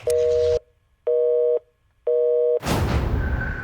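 A telephone line gives three evenly spaced steady beeps after the caller hangs up, loud and close, and a burst of broadband noise follows.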